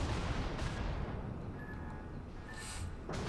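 Thunderous, sustained roar of a Soviet battleship's nine-gun main battery salvo in World of Warships, a dense low rumble filling the whole stretch with a few brief metallic whistles over it.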